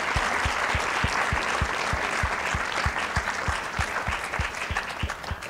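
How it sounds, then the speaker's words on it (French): Audience applause at a science film screening and discussion, a steady wash of many hands clapping throughout, with a few sharper, evenly spaced claps standing out near the front, sustained at even loudness. "qu'on applaudit évidemment"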